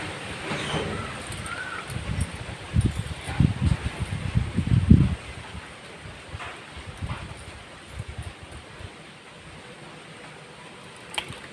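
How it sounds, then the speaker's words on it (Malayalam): Wind blows outdoors at a home, a continuous broadband rustle like stirring leaves with a few buffeting gusts near the start, then settling into a softer, steady hiss. "നല്ല കാറ്റ് ഇവിടെ കേട്ടോ"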